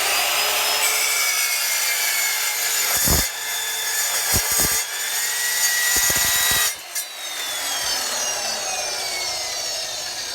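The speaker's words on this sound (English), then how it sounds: "Let's see what my little carbide chop saw here does with rebar." A small carbide chop saw with a worn blade cuts through rebar, a loud sustained high whine and grinding with sharp thuds and pitch drops as the blade bites, then spins on.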